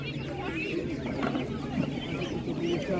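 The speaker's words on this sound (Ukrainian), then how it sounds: "По чому ці кури?" Chickens clucking at an outdoor animal market in Ivano-Frankivsk region, with scattered bird calls over a steady crowd murmur and indistinct background voices.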